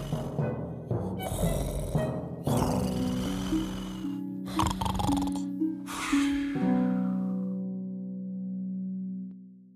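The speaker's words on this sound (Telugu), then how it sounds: "అప్పుడు ఆ యువకుడికి తెలిసింది తను గురక శబ్దం చెయ్యాలని." A young man snores in an animated fairy tale, giving a few rough snorting breaths that stand out over sustained musical tones.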